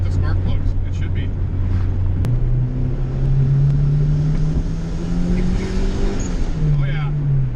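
Turbocharged Honda GSR EG hatchback pulling hard with the engine note climbing steadily through the gears as the tires break loose, loud and close, with a shift-like step early on.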